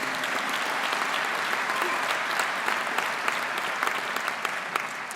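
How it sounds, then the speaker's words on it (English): Steady applause from a university graduation audience at Swinburne, dense, even clapping filling the hall at moderate volume for several seconds. "That does deserve an applause."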